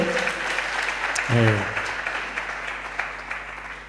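An audience at a Rwandan concert applauds in a broad wash of clapping and cheering, with a brief voice rising over the crowd partway through.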